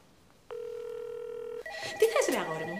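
Telephone ringing in a Greek comedy series episode, a steady electronic ring tone repeating, then shifting into a busier, louder burst with other sounds layered at the end.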